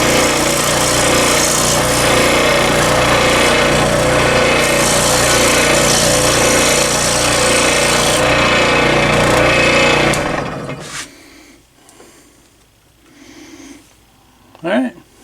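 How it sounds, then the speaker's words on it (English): A power drill bores holes straight through a wooden board with a roughly 1/8 inch bit, a loud, steady pulsing whine for about ten seconds before it stops abruptly, leaving faint handling noises and a brief clunk. "I drilled the holes all the way through my piece of board"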